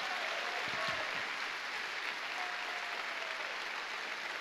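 Sustained applause from a church congregation at a Sunday morning service, continuous thick clapping with a brief stronger burst early on, no clear talk over it.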